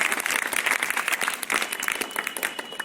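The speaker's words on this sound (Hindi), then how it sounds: "तालियां तो बजाइए।" Audience applause at a high school quiz programme, a short burst of dense clapping from a crowd, fairly close and lively, with no talking over it.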